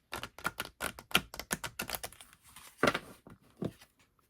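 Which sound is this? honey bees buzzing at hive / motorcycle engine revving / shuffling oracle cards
shuffling oracle cards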